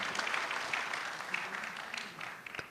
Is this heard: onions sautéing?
no